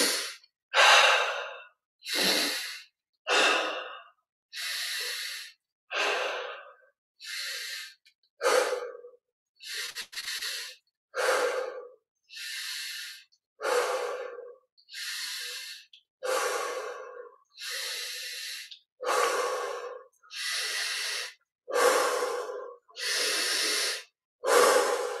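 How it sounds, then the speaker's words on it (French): Slow, deep breathing in through the nose and out through the mouth during guided meditation, about twenty audible breath cycles alternating softer inhales with longer airy exhales, close and alone. "Inspire par le nez, expire par la bouche."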